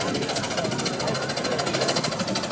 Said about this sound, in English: Just shows the power in these big steamers, and he's getting traction there.